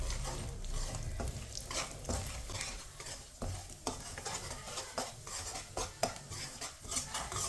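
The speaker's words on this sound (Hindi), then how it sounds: "सूजी को मैंने मिक्स कर लिया" Semolina stirred into oil in a pan for carrot halwa, a spoon scraping and clinking steadily against the metal under a soft, continuous sizzle, close and moderately loud with no voices.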